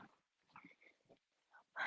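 A dog in a house barks and yelps in a few uneven bursts separated by silence, with the final one loudest and closest.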